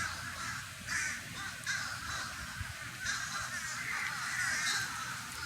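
Many birds call noisily from nearby, repeated harsh caws in overlapping bursts over a low rumbling background.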